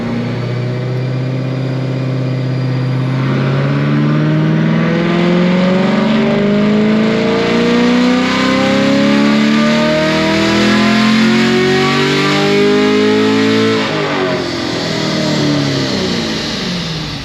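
A 2021 Camaro with new heads, cam and intake roars through a full-throttle dyno pull, engine pitch rising steadily for about fourteen seconds before dropping sharply as the throttle closes, loud and close with no talk.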